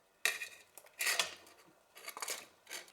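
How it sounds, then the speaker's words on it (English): Utensil scraping and clinking against a bowl while lemon curd is stirred continuously, in four separate bursts of close, fairly quiet clatter with short pauses between them. "you want to be stirring continuously so nothing sticks"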